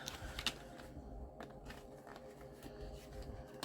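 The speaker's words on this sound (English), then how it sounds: "Let me get these kind of shuffled up in the deck here." Cards for a card reading being shuffled and handled nearby, a quiet series of soft riffling and tapping clicks.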